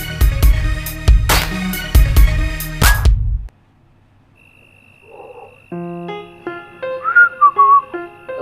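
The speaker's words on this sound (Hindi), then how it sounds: "मुंह से सीटी" A person whistling with the mouth, a bright tune of short notes near the end, after a stretch of loud music and a quiet gap with a steady tone.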